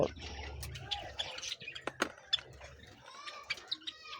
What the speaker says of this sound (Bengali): জাবা পাখির কলোনি পাখিগুলো খাবারের খাওয়ার জন্য একদম তৈরি